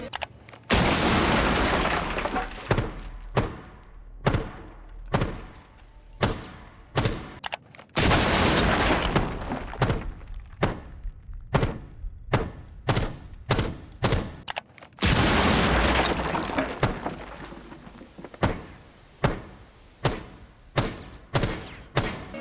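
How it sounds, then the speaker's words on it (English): Three bursts of an explosive blast, each followed by a series of sharp repeated thuds fading out, a stun grenade effect from the video game Operation Tenfold Pursuit replayed. "this essentially is what type of sound you want to hear when you get stunned"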